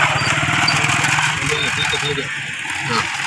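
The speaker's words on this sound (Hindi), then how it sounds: "अंकल बहुत साल बाद बाइक चला रहे हैं" A motorbike engine runs steadily while riding, loud and close throughout with a continuous rumbling drone, and voices talk over it.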